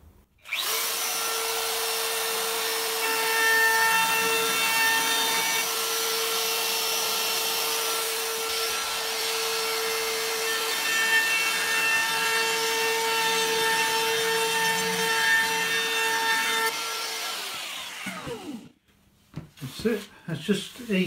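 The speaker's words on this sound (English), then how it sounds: "I'm just going to ease those with the trim router with a small 1/4 inch radius roundover bit riding on this little ball bearing" A trim router fitted with a small 1/4 inch ball-bearing roundover bit easing plywood corners on a camper van bed frame, a loud sustained high whine for about seventeen seconds, then winding down with some brief handling noise.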